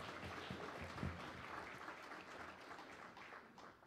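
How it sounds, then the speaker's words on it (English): A Baptist church congregation applauding children, a soft, steady round of clapping heard from a distance, with only faint voices underneath. "Let's give them a round of applause."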